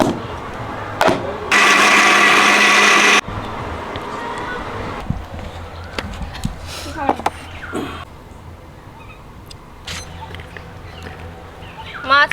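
A blender grinds ginger and garlic into a paste, a loud, steady whirring burst lasting under two seconds, followed by quieter kitchen clatter, scattered bird calls and light background noise.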